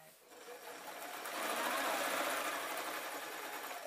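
A sewing machine quilts straight lines across a jelly roll quilt held with safety pins, its motor humming steadily and close for a few seconds, gradually rising in speed.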